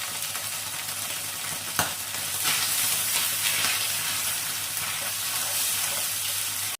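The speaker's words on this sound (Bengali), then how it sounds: "আর দিয়ে দিচ্ছি পালং শাকের পেস্টটা।" Spinach paste for vegetarian palak paneer sizzling in a hot pan, a loud steady frying hiss after a sharp clatter as the paste goes in, continuous and close.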